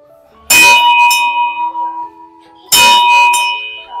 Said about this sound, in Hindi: आरती का घंटी बजा देते हैं, और दूसरी घंटी इस तरफ है इसको भी बजा देते हैं